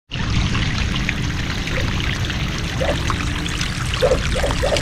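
Floodwater from Typhoon Enteng pours and trickles steadily into a farm plot near a pig pen, a continuous close rushing flow with a few faint splashes.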